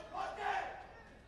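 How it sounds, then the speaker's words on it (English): At a boxing match between Dario Socci and AP Geisler, the crowd and Geisler's corner erupt in a brief, swelling roar of cheering that rises and fades within about a second. "You can hear the crowd and the corner of Geisler going absolutely wild"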